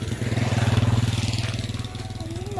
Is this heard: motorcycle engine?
yes